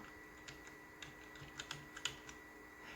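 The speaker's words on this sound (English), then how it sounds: "you got to type in a file name." Someone types a file name on a computer keyboard, producing a quiet run of irregular key clicks with a few sharper taps, heard alone in a hushed room.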